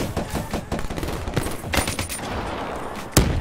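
Gunfire in Black Ops 3, a series of scattered shots and short bursts at uneven intervals, with one sharp loud shot near the end.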